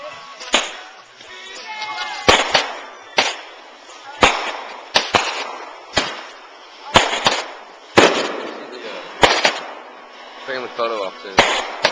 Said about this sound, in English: Somebody's shooting off fireworks from their boat